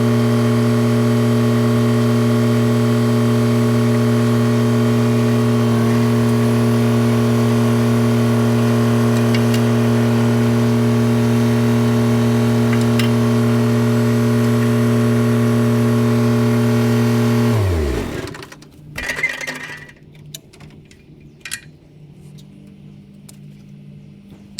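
A tractor engine runs at a steady, loud idle while its backhoe attachment is being removed, then shuts off abruptly near the end, leaving faint clanks and handling noises in near quiet.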